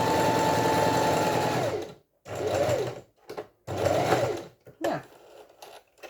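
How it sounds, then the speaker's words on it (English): A sewing machine stitches a Y-seam on tumbling-block quilt pieces. It runs in a steady whirring burst of about two seconds, then gives several shorter start-stop runs with pauses between them, all close and clear. "Today I'm sewing from the inside out, outside in even."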